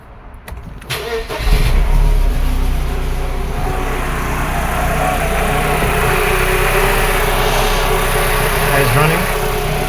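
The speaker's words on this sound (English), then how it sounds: "So let me start the car first and then we proceed." A 1995 Mercedes 210 in extremely rich running condition cranks and fires up, then settles into a loud, steady idle that drones on close by without pause.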